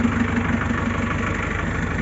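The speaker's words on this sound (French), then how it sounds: "Il tourne comme un Rover. Ça fait un bruit de tracteur, mais c'est normal." Restored English taxi with a Rover engine idling after a full rebuild, a steady, rough, tractor-like rumble with even low throbbing pulses, close and continuous with no talk.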